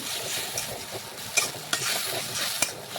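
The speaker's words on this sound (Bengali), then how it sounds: "এখন নাড়াচাড়া করে ভালোভাবে মশলাটা একটু দেখুন ভেজে নিচ্ছি।" Ground spices frying in oil while being stirred, a steady close sizzle broken by sharp scraping strokes of a spatula against the pan, with no talking.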